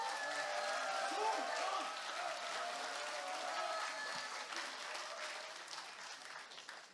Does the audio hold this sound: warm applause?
yes